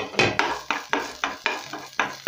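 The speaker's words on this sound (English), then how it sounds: "once that is hot, I'll go in with my onions, the diced ones." Diced onions hit hot oil for a pork dry fry, with a run of about nine regular, rhythmic scraping stirs over a light sizzle, close and fairly loud.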